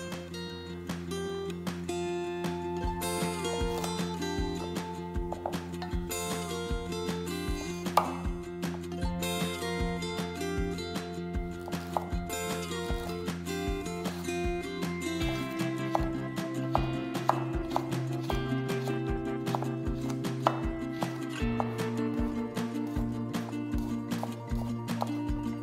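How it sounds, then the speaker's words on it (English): A knife chops half a small carrot into fine matchsticks on a board, a rapid run of light, even taps beneath louder background music. "Chop about half a small carrot into fine, matched sticks."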